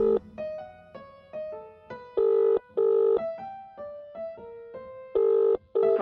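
A telephone being dialed: a quick run of electronic tones at shifting pitches, with several longer, louder tones mixed in, clear and close with no voices.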